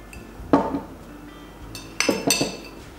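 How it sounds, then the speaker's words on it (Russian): Egg yolk being beaten with powdered sugar in a bowl for tiramisu eclair filling, heard as a few sharp clinks and scrapes of utensil against dish in two short bursts. "начинаю взбивать желток вместе с сахарной пудрой"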